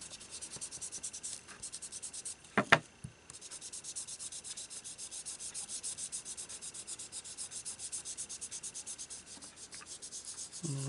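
Soft, continuous rubbing of an ink blending tool across a paper card, faint and steady for about eleven seconds, with a brief louder tap near the third second.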